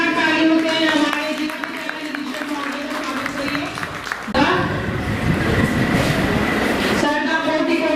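Applause breaks out in a school auditorium, a dense patter of many hands clapping that starts abruptly midway and holds loud, following a stretch of voice and ambient noise.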